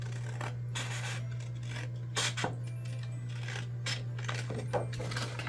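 Custom dashboard material being cut, heard as quiet, irregular scraping and snipping strokes over a steady low electrical hum, with no talking.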